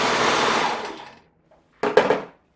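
An overlocker stitches fabric in a fast, close mechanical whir that runs for about a second and then stops, followed after a pause by a second short, loud burst.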